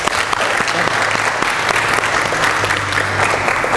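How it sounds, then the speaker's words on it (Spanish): An audience at a lottery draw event applauds, a dense, loud, sustained clatter of many hands that continues steadily from start to finish. "Un aplauso, por favor."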